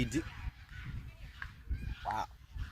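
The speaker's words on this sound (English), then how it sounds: "birds getting crazy. They're sounding the alarms." Geese honk loudly outdoors, several sharp calls rising over a rumbling background, with a couple of clear honks near the end.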